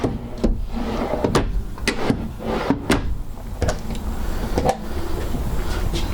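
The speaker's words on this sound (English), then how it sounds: "Nice drawers here for storage in the kitchen." Kitchen storage drawers in a 2019 Forest River Forester LE 3251DSLE motorhome on a Ford chassis slide and shut, a series of sharp knocks and rattling clunks spaced irregularly over steady background hum.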